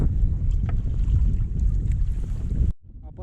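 Strong wind roars across a small fishing boat out at sea for pomfret, a loud steady buffeting rumble with no talk that cuts off abruptly near the end, leaving quieter faint sounds.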